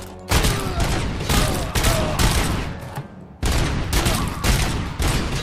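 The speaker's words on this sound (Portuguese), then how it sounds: "o cara jogou nos meus pés uma granada, velho" Heavy, loud bursts of automatic gunfire and a blast in the video game Robocop Rogue City, dense volleys with one short pause midway.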